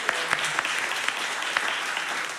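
A congregation at a Sunday flower communion service claps in steady, sustained applause, many hands at once filling the room, with a few louder individual claps standing out.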